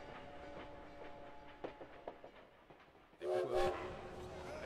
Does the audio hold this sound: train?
yes